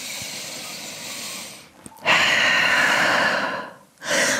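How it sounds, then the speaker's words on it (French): Deep breathing during a yoga exercise, a long breathy exhale followed by a strong, close inhale and another rising breath, loud and airy with no talking. "Grande respiration ici."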